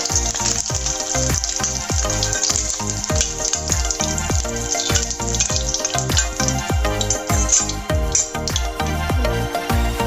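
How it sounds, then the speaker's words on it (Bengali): Food fries in hot oil with a steady, bright sizzle that runs throughout, layered with rhythmic knocking beats and tonal background sound. "এভাবে একটু লাল লাল করে একটু ভেজে নেব, খুব শক্ত করবো না"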